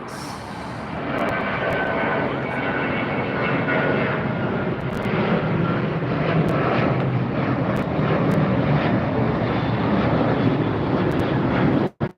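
A WestJet Boeing 737 jet airliner in Sunwing livery roars past at LAX airport, a loud broad continuous engine rumble and whine that holds steady, then cuts off abruptly at the end.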